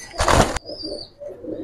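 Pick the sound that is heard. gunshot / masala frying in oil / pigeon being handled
pigeon being handled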